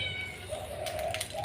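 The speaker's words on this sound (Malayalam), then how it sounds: "പൂച്ച ഓടി വരുന്നുണ്ട്." A cat meows in a drawn-out, rising call that carries on for over a second, fairly close and with no talking over it.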